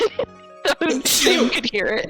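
A single quick sneeze bursts out among people chatting during a gaming stream, short and close, surrounded by talk.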